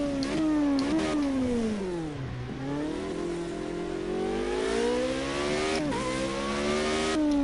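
A Formula Renault 3.5 single-seater in Project Cars 2 whines loudly through the revs while warming its tyres, its engine pitch climbing and dropping repeatedly as it accelerates, lifts and shifts.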